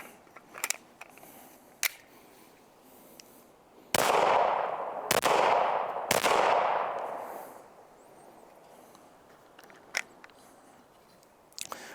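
Shots from a PSA Rock pistol firing Fiocchi ammunition amid feed failures: three loud, evenly spaced reports with echoing tails, surrounded by faint sharp clicks and handling noises, with long gaps between.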